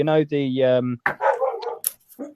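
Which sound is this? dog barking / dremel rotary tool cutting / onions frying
dog barking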